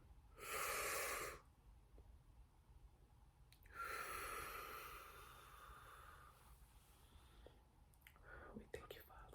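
Slow, deep breaths drawn in and let out, two long airy whooshes a few seconds apart with a fainter exhale trailing off, close and quiet, with no talking.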